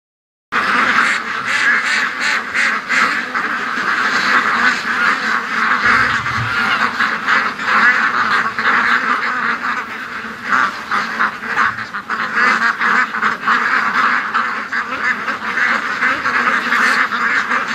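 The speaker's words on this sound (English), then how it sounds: "I noticed the ducks are headed down here" A flock of ducks quacks loudly and continuously nearby, dense overlapping calls with occasional honk-like notes running throughout.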